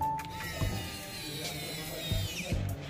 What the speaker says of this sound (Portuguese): Agora eu vou parafusar.